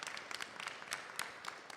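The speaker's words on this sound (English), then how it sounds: "So please give a round of applause for our Vyasji to welcome him tonight." An audience at a Bhagavat Katha gathering claps to welcome a speaker, a faint, scattered patter of hand claps with uneven bursts that carries on steadily for the whole stretch.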